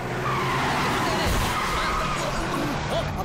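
A car skids and screeches during reckless driving, a short rough tire scrape with engine noise, heard fairly close, with voices audible alongside.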